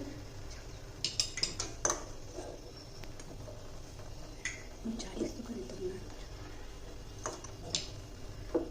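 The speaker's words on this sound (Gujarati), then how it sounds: "જોશે એમ લોટ એડ કરતા જશું અને હલાવતા રહેવાનું છે" A spoon stirs rice flour batter for papad in a metal pot, scraping and clinking in irregular taps while more flour goes in, close and fairly quiet, with a voice talking over it.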